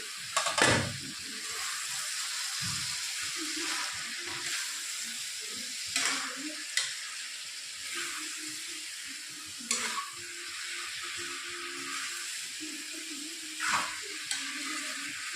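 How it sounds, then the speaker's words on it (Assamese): Potatoes, cauliflower and tomatoes fry in a pan with a soft, continuous sizzle, broken now and then by scraping stirs and a few light clatters. "আলুখিনি দি দিছোঁ। এয়া ওলকবিখিনিও দি দিছোঁ। আৰু লগতে ইয়াত বিলাহীখিনিও দি দিছোঁ। এতিয়া মই লৰাই দিম।"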